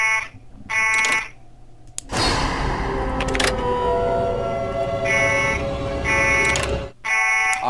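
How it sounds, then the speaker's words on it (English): A repeating alarm blares in the Five Nights at Wario's: High Rollers horror game, loud electronic tones sounding in bursts before and after a long stretch of dense, noisy clatter and rumble. "I'm using the alarm"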